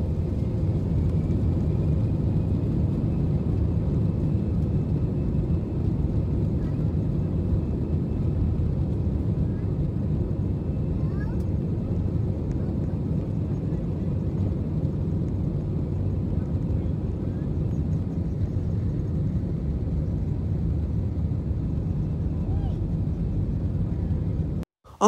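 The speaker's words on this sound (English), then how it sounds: "Looks like we are now taking off from Brookhaven Airport now." Airplane taking off at an airport in the Roblox Brookhaven game, a steady loud engine rumble and drone held for over twenty seconds before cutting off abruptly at the end.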